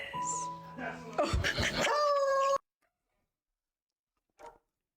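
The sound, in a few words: dogs barking in the background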